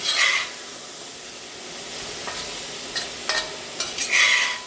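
Beef and broccoli with celery stir-frying in a hot pan, a soft steady sizzle punctuated by louder scraping stirs near the start and end, with no talking.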